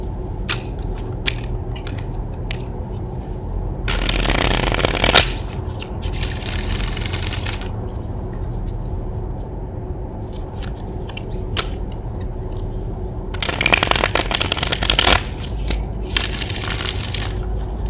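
Playing cards riffle and flutter in two bursts of shuffling, with lighter soft handling sounds in between and no speech.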